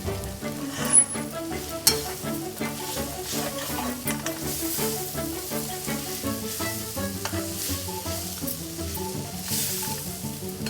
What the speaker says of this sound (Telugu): కొంచెం కొబ్బరి పొడి వేసి కలుపుకుందాం